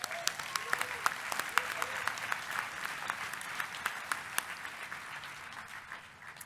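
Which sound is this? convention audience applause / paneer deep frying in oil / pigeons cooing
convention audience applause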